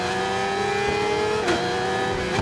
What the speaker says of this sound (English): Can hear that bike right behind us.